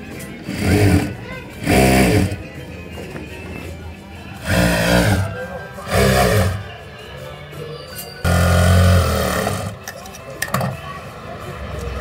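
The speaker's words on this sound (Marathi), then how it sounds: "आता ब्लाऊज उलटे करून पुन्हा 1 इंचाचा फोल्डेल अशी शिलाई मारूया इकडे." A sewing machine stitches the hem of a blouse in short, loud mechanical bursts of whirring that start and stop repeatedly, with quieter pauses between runs.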